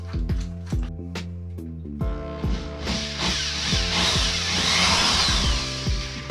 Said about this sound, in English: now that I have my hole drilled, time to use the drywall anchors and the screws